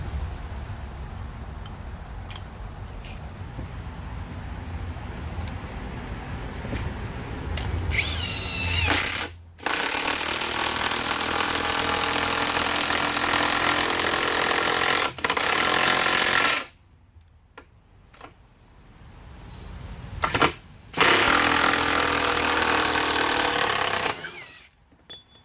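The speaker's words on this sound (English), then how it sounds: "Next, we'll drive some lag bolts with the 19 mil" Metabo HPT half-inch drive 36V impact wrench, run on its cord, driving lag bolts: several loud bursts of rapid ratcheting hammering separated by short pauses, close by with no talk.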